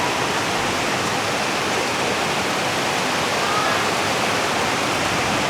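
A tropical rainstorm begins in a Thai village, heavy rain pouring in a dense, loud, unbroken broadband roar that holds steady from start to finish with no voices.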